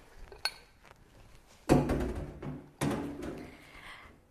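Dishes clatter into a kitchen sink while sausage rolls are being made, with a few sharp clinks followed by two louder bursts of crockery knocking together, close and without talk.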